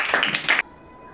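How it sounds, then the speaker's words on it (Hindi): Students in a classroom clap their hands together in a short burst of several claps, fairly close and loud, then it stops abruptly and only quiet room tone remains. "ताली बजाइए इसके लिए भी।"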